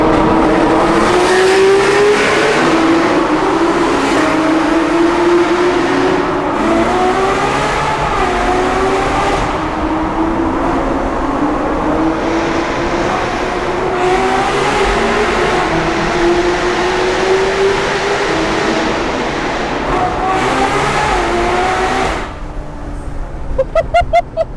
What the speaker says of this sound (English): This thing's so loud!